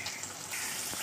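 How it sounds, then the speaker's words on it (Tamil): Water pours steadily into a pan of chicken gravy being cooked, a close, continuous splashing gush with no voices. "நான் தண்ணி ஊற்றும் போது உங்களுக்கு காட்டுறேன்."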